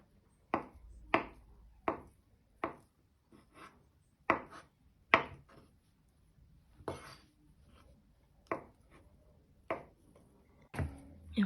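A knife dices halal sausage on a cutting board for Olivier salad, giving about a dozen sharp, close chops in an uneven rhythm with quiet pauses between them and no talking.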